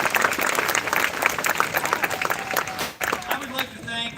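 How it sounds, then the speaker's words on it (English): Audience applauds for graduates at a school graduation celebration, a dense, lively clapping that dips briefly near the end while voices and cheers mix in underneath. "A round of applause, please, for them."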